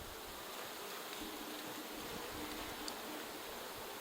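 Bees hum in a dense, even drone around an open hive, the close buzzing holding steady and fairly quiet throughout with no voices.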